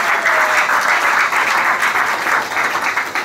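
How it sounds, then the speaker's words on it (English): Sustained applause from a church congregation, dense steady clapping filling the whole stretch at close range with a faint voice rising briefly near the start. "Clap your hand for Jesus."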